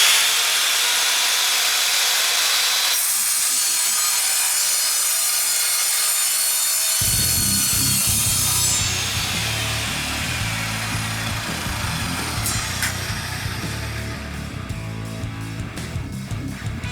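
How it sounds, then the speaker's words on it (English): Evolution CMS210 mitre saw cutting through a piece of steel box section clamped to a bench, a loud steady whine of blade on metal with a low grinding drone joining partway through and continuing to the end. "let's cut through this piece of box section"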